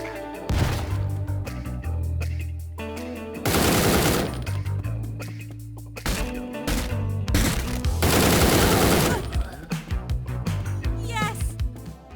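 Automatic gunfire in the top-down shooter Door Kickers: Action Squad, with dense bursts of rapid shots and loud crashes in repeated clusters, over game music and sound effects.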